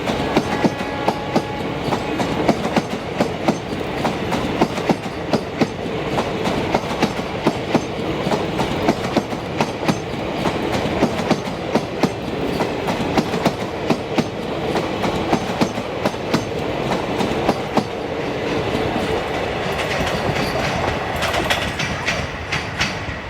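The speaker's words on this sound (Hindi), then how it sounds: "देखिए ट्रेन जा रही है बादशाह नगर की दिशा में" A train rolls along the Daliganj–Malhaur line toward Badshah Nagar, a loud, steady rumble and clatter of wagons running close by for the whole stretch, with no voices.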